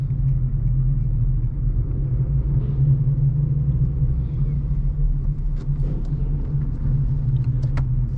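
Inside a 2004 Acura EL on a test drive, a steady low engine rumble and road drone fill the cabin, with a few faint clicks and light rattles late on and no talking.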